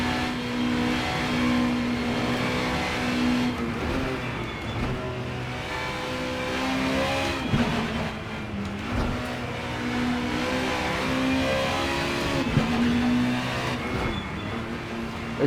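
Super Touring race cars in the Assetto Corsa racing game: continuous loud engine roar that rises and falls through gear changes and revving, with other cars droning nearby throughout.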